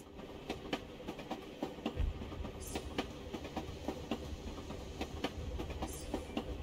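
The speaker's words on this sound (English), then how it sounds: "This tram will take me to the edge of the Volga." A tram carries the player toward the Volga in Assassin's Creed Chronicles: Russia, wheels clacking over rail joints in a steady rhythm above a low rumbling drone, with a heavier thump partway through.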